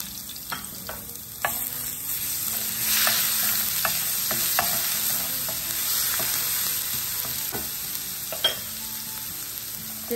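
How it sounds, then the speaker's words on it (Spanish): Finely chopped garlic fries in hot oil, a steady bright sizzle running throughout with scattered utensil scrapes and taps as it is stirred. "Una vez caliente el aceite, vamos a echar el ajo bien picadito."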